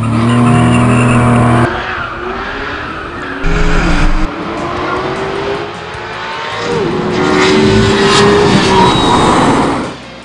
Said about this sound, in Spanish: veamos cómo se comportan en un ejercicio de arranque a salida parada